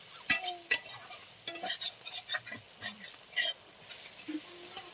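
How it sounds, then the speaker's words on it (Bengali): Onions frying in a pan until reddish-brown, with a soft sizzle under repeated clinks and scrapes of stirring, close and fairly quiet, no talking. "পেঁয়াজটাকে আমি লাল লাল করে ভেজে নেব।"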